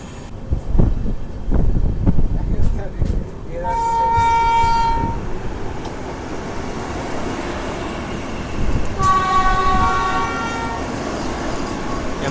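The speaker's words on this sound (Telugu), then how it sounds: "MGR Chennai central Vijayawada Vande Bharat express train ఇది." The Vande Bharat Express on the MGR Chennai Central to Vijayawada route rumbles past loudly and sounds two long, sustained horn blasts, one midway through and another near the end, over a steady roar of rolling wheels.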